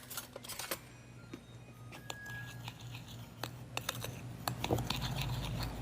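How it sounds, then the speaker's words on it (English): A utensil stirs sugar, baking powder and flour together in a bowl, making soft, close scratchy scraping and ticking sounds in an uneven rhythm that grows busier toward the end. "I have here some sugar, some baking powder, some flour. I'm gonna stir all that together."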